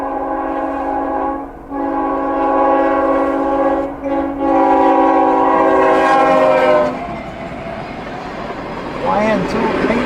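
A train passing through heavy snow, its horn blaring in long sustained blasts with brief breaks, over a steady roar of rolling cars that continues after the horn stops.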